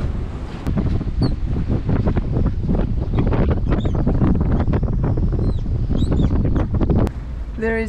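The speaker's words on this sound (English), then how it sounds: "Windy" Strong wind buffets the microphone in constant gusty rumbles, with faint bird calls and distant voices barely audible beneath it.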